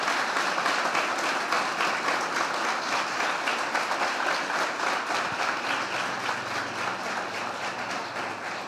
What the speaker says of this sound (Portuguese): a gente vai pedir então que os irmãos aplaudam esses irmãos aqui no lugar de um abraço